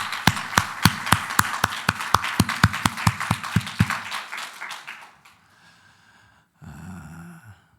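A church congregation at a Sunday service bursts into rhythmic clapping, sharp regular claps for several seconds that fade out, followed by a brief murmur.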